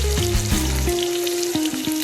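Small shallots sautéing in hot oil give a continuous close sizzle with fine crackles, partly covered by steady stepping electronic tones.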